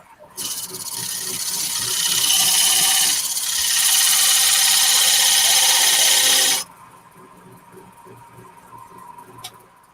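A wood lathe chisel cuts a V groove into spinning wood, a loud, steady broadband scraping hiss lasting about six seconds, then dropping to a quieter background hum.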